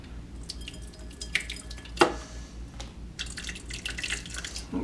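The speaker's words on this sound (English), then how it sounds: "you just want to get that hot water on there" Hot water is poured over PEX tubing to loosen a steel clamp, giving a steady trickle and dripping with a sharp splash or clink partway through. No one speaks.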